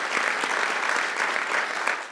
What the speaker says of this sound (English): I just want to give a round of applause to anybody here that serves in law enforcement